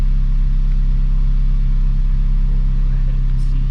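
A supercharged Acura RSX engine idles steadily at about 980 RPM while still cold, with a constant low, even hum and no change in pitch.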